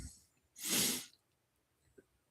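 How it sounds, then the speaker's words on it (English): A sleeping dog draws a single long, airy breath that rises and fades, followed by quiet stillness and a faint soft puff. "but that is my dog sleeping"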